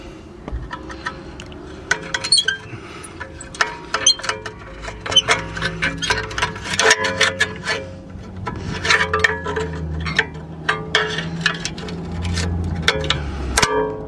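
A screwdriver scrapes and pries at a car's brakes to free a tiny stone, giving close, irregular metallic scratching and rasping in bursts over a low background hum, with no talking.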